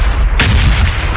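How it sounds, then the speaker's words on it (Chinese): A bombing-zone blast from the older sound set of the video game Peacekeeper Elite: one sudden, loud crack-like explosion that leaves a rumbling, roaring tail, with a low rumble beneath it throughout. "这是旧版轰炸区的音效"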